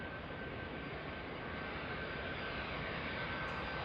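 Airliner jet engines roar in a steady, broad rumble at a San Diego airport, heard from a plane-spotting spot at moderate distance. The noise holds constant and fills the whole stretch, with no talk over it.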